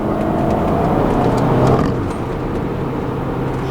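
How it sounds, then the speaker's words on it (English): A stock 2011 BMW X5 M accelerating hard, its engine note rising as a close, loud roar that eases off slightly partway through. "It picks up speed so quickly."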